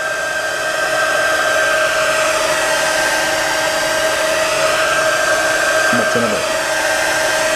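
A heat gun or hair dryer blows steadily on a plastic scooter wheel of a Smart Balance wheel scooter, a loud, constant whirring hiss throughout, with a brief spoken remark near the end.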